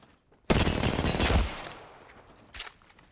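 A loud burst of automatic gunfire in the battle royale game Apex Legends erupts suddenly, rattling for about a second before decaying into echoing tail, followed by a short sharp shot later.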